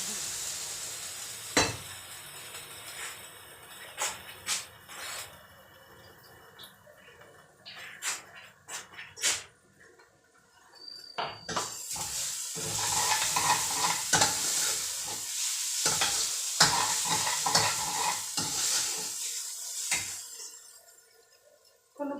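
Wheat is roasted and stirred in a pan, scraping stirs and clinks at first, then a louder sustained sizzle with repeated scraping strokes, close by and continuous with no talking.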